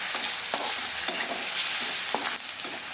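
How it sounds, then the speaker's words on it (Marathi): Onions and spices frying in oil in a pan as tomato is added, a steady close sizzle with a few sharp stirring scrapes and clinks, no talking. "त्यानंतर आता त्यामध्ये टोमॅटो मी त्याच्यात टाकत आहे."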